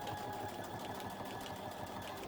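A sewing machine running on a weightless quilting frame gives a steady, fast mechanical whir with regular stitching pulses, close and continuous throughout.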